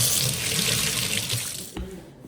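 Water runs from a kitchen tap while dishes are washed up after cooking a home lunch. The gushing flow is loud and steady, then the tap cuts off with a small clunk and the sound quiets.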